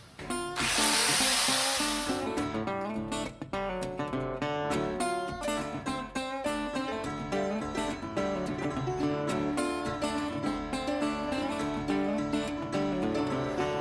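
Power tool trimming metal during pitman arm fabrication, a loud close grinding whine that starts with a bright burst and continues steadily with rapid rough pulsing throughout.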